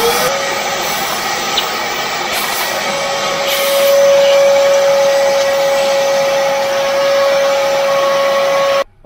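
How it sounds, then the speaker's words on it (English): A vacuum cleaner runs steadily while cleaning out a Harman pellet stove, a loud continuous motor whine with a constant tone that cuts off abruptly at the end. "Hit it with a vacuum."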